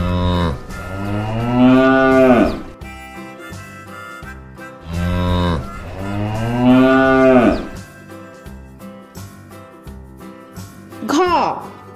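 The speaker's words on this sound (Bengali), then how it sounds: "গয়ে গরু বাছুর দাঁড়িয়ে আছে।" A cow and calf low in two long, loud moos several seconds apart, each rising and falling, with a shorter higher call near the end.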